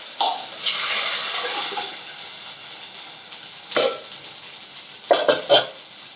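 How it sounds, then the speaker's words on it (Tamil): Fish curry gravy is poured into a pan with a soft rushing, splashing wash that swells and fades over a couple of seconds. A few brief clinks and knocks of the vessel follow; the sound is close and moderately quiet. "இப்போ நம்ம குழம்பு ஊற்றிக்கலாம்."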